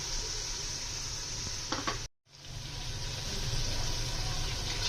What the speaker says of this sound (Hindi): ये देखिए प्याज को भी हमने हल्का सा फ्राई कर लिया